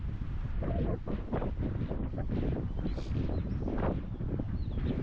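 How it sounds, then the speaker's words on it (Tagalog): Strong morning wind gusts buffet the microphone at a campsite in Malico, a loud, continuous rumbling roar with surging swells and no voices. "Ang lakas ng hangin."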